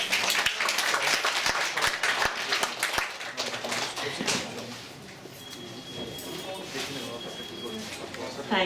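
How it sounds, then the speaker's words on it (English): Applause from an audience at a textile talk in a studio, a burst of sharp claps up front that thins into scattered clapping and murmuring voices as it fades. "Big round of applause"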